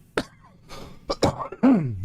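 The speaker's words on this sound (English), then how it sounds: "still have a cough" A man coughs a few times in quick, harsh bursts, close and fairly loud, ending with a throaty vocal sound.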